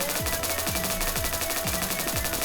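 A rapid automatic gun fires in a steady burst in the video game Slingshot Protocol, sharp repeated shots over a constant hum, alone with no talk.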